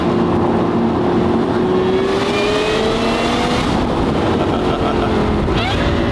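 A car with a VF supercharger at wide open throttle, its steady rising whine running over a loud, continuous engine drone with no raging exhaust, heard from inside the cabin with the windows up.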